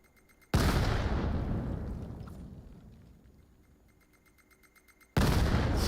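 Grenade blast in the VR shooter VAIL during a competitive match: a sudden loud explosion with a long rumbling decay, then a second sharp blast near the end.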